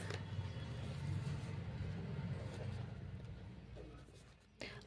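Pen or marker writing out a trigonometry statement for a class 11 maths exercise, a steady soft scratching and rubbing that runs for several seconds at close range before a sudden louder knock at the end.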